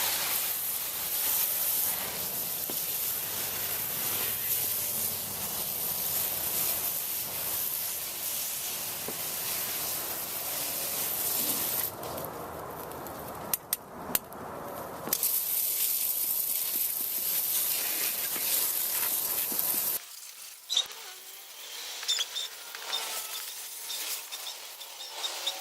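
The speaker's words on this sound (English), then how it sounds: "This time I'm going to try this hose attachment with the Dawn." A hose attachment sprays full-strength Dawn soap foam during engine detailing on a Dodge Charger police car with a Hemi engine, a loud continuous hiss that breaks off and restarts several times.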